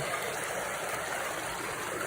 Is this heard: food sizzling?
no